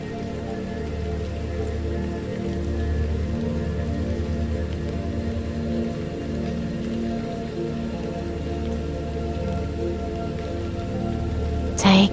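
Steady rain falls in a continuous, even wash that carries on unbroken from start to end, with a brief louder rustle right at the close.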